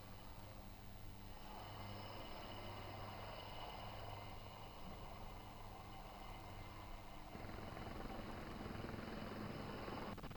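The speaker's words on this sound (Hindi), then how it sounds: "देख सकते हैं किस तरीके से ये हेलीकॉप्टर लैंड करता है" A helicopter landing at an air show in India, its steady engine and rotor drone continuous and fairly loud throughout, with the low throb shifting slightly partway through, amid open-air crowd ambience.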